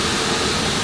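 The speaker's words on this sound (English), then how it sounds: "Got some water going in the tank right now." Water pours steadily into a 1,050-gallon spray mix tank, a loud, continuous broadband rush with no pauses or voices.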